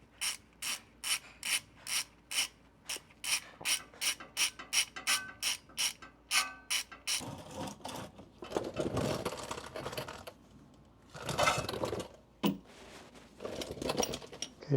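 A ratchet cranks in a fast, regular run of sharp clicks while the fill bolt on a Mercedes C63s rear differential is loosened, followed by irregular metallic scraping and rattling up close, with no voices.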